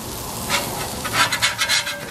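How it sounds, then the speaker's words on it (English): Whiting and salmon fillets frying on a Blackstone griddle, a steady close sizzle broken by a series of short scraping bursts, probably a spatula working under fish that is sticking to the hot surface. "See, that old fish is starting to stick to that griddle pretty good now."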